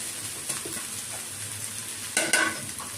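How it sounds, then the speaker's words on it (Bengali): Boiled basmati rice for egg fried rice is stirred in a pan with a soft sizzle, scraping spatula strokes and a couple of sharper metallic clanks near the end, close and fairly quiet. "ভাতটাকে আমি নেড়ে ছেড়ে করে নেব"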